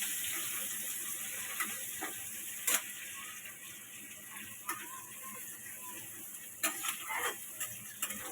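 Oil sizzling steadily as taro greens fry with dried chili, garlic and onion, a constant hiss with occasional light stirring clicks and pops, fairly quiet and without talk.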